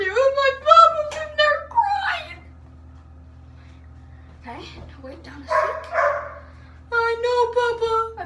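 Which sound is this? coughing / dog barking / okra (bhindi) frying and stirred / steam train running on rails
dog barking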